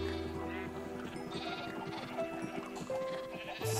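Sheep bleating in the video game Minecraft, several overlapping bleats from a crowded farm of animals, fairly close and continuous amid other game sounds.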